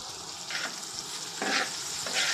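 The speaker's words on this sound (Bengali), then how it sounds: "তারপর অনবরত নাড়তে থাকলাম," Okra fry with garam masala powder stirred in a pan, a steady sizzle with several brief scraping strokes of the spatula against the pan.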